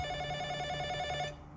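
A telephone ringing with a steady electronic tone for about a second and a quarter before cutting off, fairly quiet and alone, with no speech.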